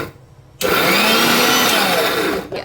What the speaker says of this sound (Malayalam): ഇച്ചിരി കറിവേപ്പില എല്ലാം കൂടി ഇട്ട് നമുക്ക് ചതച്ചെടുത്തിട്ട് വരാം